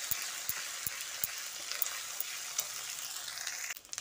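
Ginger-garlic paste and green chili paste frying in a pan for a soybean and potato curry, giving a steady bright sizzle with sharp periodic ticks of a spoon against the pan, the sizzle briefly dipping near the end.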